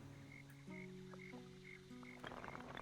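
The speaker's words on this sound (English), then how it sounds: "I hear a frog." A frog in a village-building video game croaks in short, repeated calls at a quiet level over a soft, sustained musical drone.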